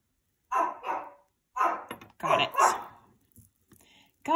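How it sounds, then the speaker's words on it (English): Dogs indoors bark at something outside in several loud, close bursts: a pair of barks, a pause, then a longer run of sharp barks fading into quieter whimpering sounds. "Oh, the dogs hear something outside."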